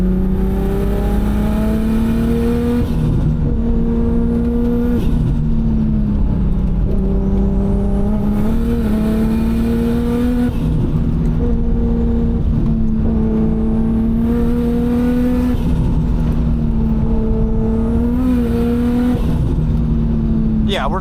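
A Nissan R32 GTR being driven, engine droning steadily from inside the car with repeated rising revs and gear changes, loud and continuous throughout.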